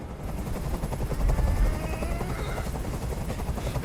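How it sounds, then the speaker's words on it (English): A helicopter hovers overhead in the Detroit: Become Human video game, its rotor thumping in a loud, steady rhythmic pulse throughout. "Tell that helicopter to get out of here."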